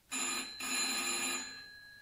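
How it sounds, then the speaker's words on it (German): A telephone rings in a 1978 German radio crime play, two bell bursts close together, the second longer and fading out, with no voices. "Ja, Ihr Telefon"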